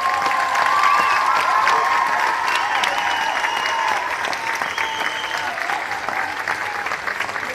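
A festival crowd at an international folklore festival in Vaslui, Romania, applauds in steady, dense clapping that holds at a loud, even level throughout, with faint cheering mixed in.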